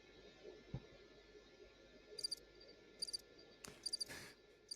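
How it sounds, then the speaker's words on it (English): Summer insects chirp in short repeated bursts over a quiet outdoor background, faint to moderate and without talk, with a thud or two mixed in. "it's the gentle sound of summer insects"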